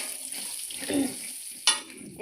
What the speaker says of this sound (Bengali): বাদামগুলো ভেজে দিচ্ছি আমি